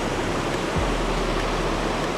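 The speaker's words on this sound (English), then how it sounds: "Rainbows underneath the waterfall." A backwoods waterfall rushing in a steady, dense roar of falling water, loud and close, with no voices.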